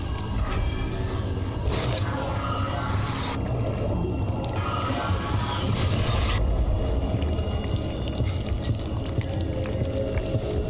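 Wading through water in the horror game Amnesia: Rebirth, a continuous loud sloshing and splashing wash with low rumbling undertones, steady throughout with brief surges of brighter splashes.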